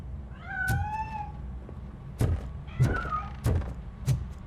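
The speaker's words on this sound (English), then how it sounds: "That cat must be hiding inside." A cat meows in the video game Robocop Rogue City, with two drawn-out meows close by, mixed with a series of heavy thuds and knocks like doors or footsteps.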